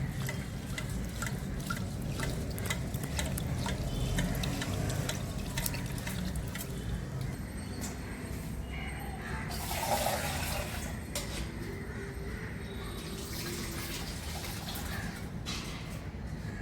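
Rice being washed in water, with continuous splashing, swirling and dripping close by, steady throughout and a brief louder burst of water near the middle.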